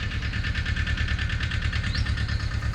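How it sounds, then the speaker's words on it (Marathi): A tractor engine idles steadily nearby, a continuous low rumbling throb with a faint high whine, no voices. "तर ट्रॅक्टर ते इथं लावून बघतोय शेड शेडमध्ये की व्यवस्थित लावतो की नाही"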